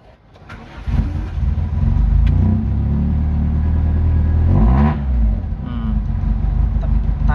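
A used car's twin-cam engine idles and revs up close, holding a loud steady drone with a couple of throttle blips, no one talking over it.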